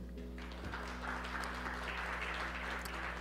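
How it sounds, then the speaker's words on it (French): A church congregation applauds in a steady, continuous wash of clapping. It is fairly distant and reverberant, with a low hum and faint voices underneath. "applaudissez le Seigneur"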